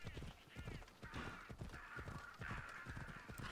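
Horse hooves clip-clop in the video game Assassin's Creed Odyssey, a steady rhythmic trot under continuous game music and ambience with occasional bird calls.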